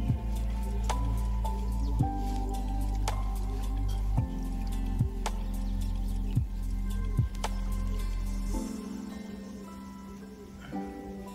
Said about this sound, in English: You can actually see the mercury dripping down, drop by drop.